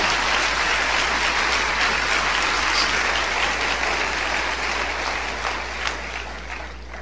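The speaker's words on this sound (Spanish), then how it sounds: "Si va a aplaudir, aplaude fuerte." A church congregation breaks into loud, sustained applause during a sermon, a dense continuous wash of clapping from many hands that holds steady for several seconds before easing slightly.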